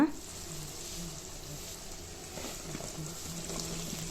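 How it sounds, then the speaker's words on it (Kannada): Cauliflower frying in masala in a pan, a steady soft sizzle running throughout with faint stirring scrapes, while a voice talks over it. "ಇದನ್ನು ಅಷ್ಟೇ ಒಂದೆರಡು ನಿಮಿಷ ಫ್ರೈ ಮಾಡ್ಕೋಬೇಕು"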